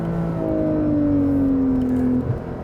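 Porsche 911 engine revving on a racetrack, a loud, close, smooth engine tone rising steadily in pitch for about two seconds before dropping off.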